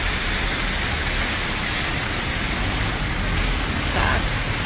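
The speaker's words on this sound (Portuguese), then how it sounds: "Tá aquela chuvinha, aquela chuvarada, mas tem sol." A steady rain shower falling in sunshine in São Vicente on the São Paulo coast forms a dense, even hiss that runs unbroken and fairly loud throughout.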